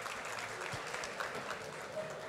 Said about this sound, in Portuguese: Gente, tá merecendo aplauso